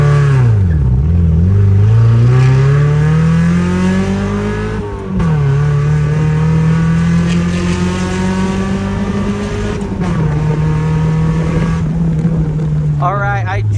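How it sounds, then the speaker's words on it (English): A car accelerates hard through the gears from a standstill in a 0 to 60 run, loud close engine note climbing in pitch, dropping at each shift and rising again, with interior rumble throughout. "you definitely have to get this sucker up to 3rd gear to do a 0 to 60 test"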